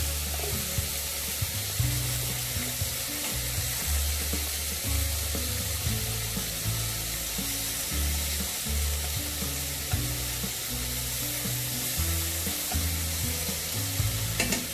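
Marinated prawns sizzle steadily in a pan after being flipped, a continuous bright frying hiss running throughout with a low, fluctuating background rumble and no talking.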